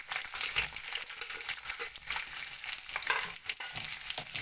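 Garlic, green chillies and onion sizzle and fry steadily in a pan, a continuous close crackling hiss with occasional stirring scrapes and no talk.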